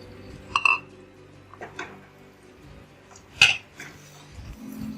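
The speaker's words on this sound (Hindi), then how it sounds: "और अब इसमें डाल दूँगी मैं ये चिकन।" Chicken pieces and chicken liver going into a pot for dhaba-style khara masala chicken, a few sharp metallic clinks and clatters of utensils against the pan with quieter sizzling between, no talking.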